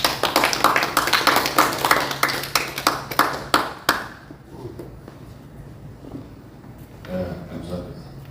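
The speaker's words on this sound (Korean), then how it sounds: "나오실 때 큰 박수로 환영하겠습니다" An audience claps to welcome a speaker at a Korean church history lecture, a steady round of applause lasting about four seconds before it fades, followed by quieter room sound and a voice near the end.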